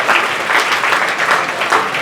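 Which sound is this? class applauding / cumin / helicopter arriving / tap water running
class applauding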